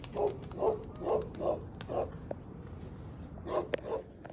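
A dog barks repeatedly in short, evenly spaced bursts, pauses briefly, then lets out a few more barks, moderately close.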